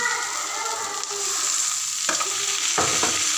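Tomatoes and onions sautéing in a pan for egg kothu parotta, a bright continuous sizzle with a spatula scraping and stirring in sharp strokes toward the end, close and alone.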